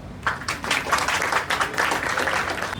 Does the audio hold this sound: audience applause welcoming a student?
yes